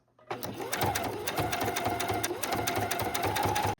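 A sewing machine runs at a slow, even pace as it stitches bias tape onto a needlepoint canvas, one continuous close burst of rhythmic needle clatter that starts and stops cleanly.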